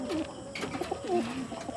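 Pigeons coo in a low, throaty warble, several rolling calls repeating close by over steady outdoor background noise.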